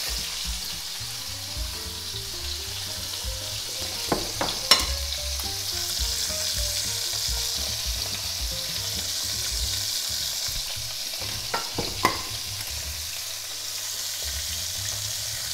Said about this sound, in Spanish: vamos a marcarlas solamente, ¿eh? No freírlas.